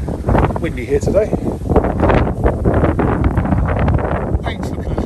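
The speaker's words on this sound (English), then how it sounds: "windy here today." Gusty wind buffets the microphone in loud, continuous rumbling bursts while someone talks over it beside a 1973 Rover P5B Coupe outdoors.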